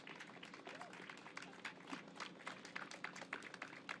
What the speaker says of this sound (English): give an incredible round of applause for our heroic workforce